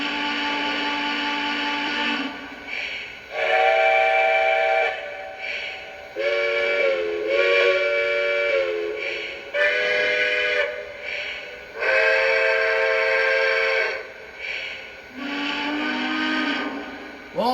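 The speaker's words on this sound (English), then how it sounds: "So here's the 5 whistles." A Lionel Legacy model Consolidation steam locomotive sounds a series of whistles, loud, chime-like blasts of varying length and pitch separated by short pauses, each one clear and close over a quiet background.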